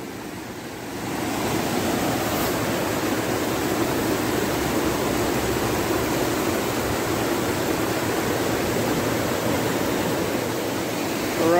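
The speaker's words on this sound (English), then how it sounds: "it is coming from the pond, but now it's a stream. I've never seen where it flows down into the river" A small stream flowing down into a river on a foggy December day, a steady, close rushing wash of water that runs continuously without pause.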